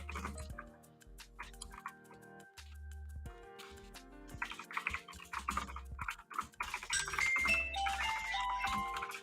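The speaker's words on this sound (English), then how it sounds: "It's my drink reminder, so I remembered to drink some water" A loud drink reminder alert plays as a bright, jingly electronic chime melody with repeated tinkling notes and bell-like tones, growing busier and louder toward the end.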